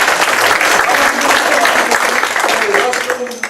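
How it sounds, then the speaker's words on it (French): Audience applause for an association at a community event in Sorèze, dense and steady throughout, fading slightly at the end. "je crois qu'il faut les applaudir bien fort"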